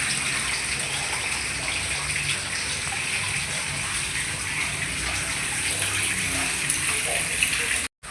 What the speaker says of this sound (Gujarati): વરસાદ આવી રહ્યો છે.